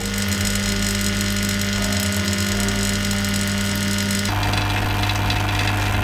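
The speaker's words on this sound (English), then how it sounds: "If I turn on this vacuum pump and I open this up" Vacuum pump running steadily during wood stabilizing, pulling air from a timber block under vacuum; a constant mechanical drone with harmonic hum that shifts to a brighter, hissier tone partway through as a valve is opened.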